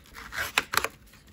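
Box cutter slicing open a parcel of Pokémon cards, a few short, close scraping cuts and rips bunched together in a quiet room.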